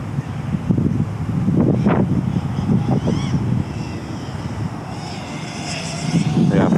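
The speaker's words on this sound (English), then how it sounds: "I'm fighting quite a bit of wind today" Steady wind buffets the microphone during an FPV quadcopter flight on an impulse RC Apex frame, a broad continuous rush with the drone's motor whine rising and falling over it.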